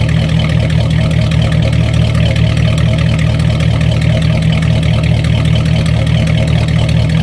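A Buick engine idles steadily with a misfire, a loud, continuous low rumble close by with a faint uneven stumble running through it and no voices.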